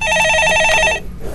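A telephone rings loudly in a radio studio during a Korean stock-market call-in show, one sustained electronic bell trill lasting about a second before cutting off, with no talk over it.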